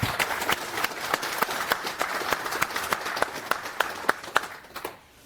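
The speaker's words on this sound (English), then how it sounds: "could we have a warm a round of applause for all" A conference audience gives a warm round of applause for volunteers, with scattered, distinct claps over a steady crowd patter that thins out and stops near the end.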